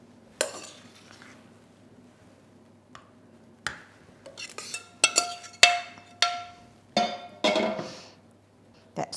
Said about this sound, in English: I'm going to ladle into my little dishes that I've popped on a tray just to make it easier to get in and out of the oven